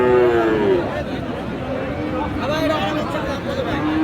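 Friesian and crossbred bull calves at the Raniganj cattle market give low, drawn-out moos, one near the start and more later, over steady crowd chatter and voices.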